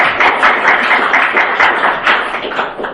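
An audience claps together at a law-and-language lecture, producing a sustained, fairly loud patter of many hands with gently rising and falling intensity, fully covering the short moment without any voices.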